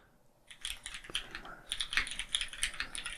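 Fingers tap out code on a computer keyboard in Xcode, giving soft, irregular clicks up close that come in short clustered bursts, alone without talk.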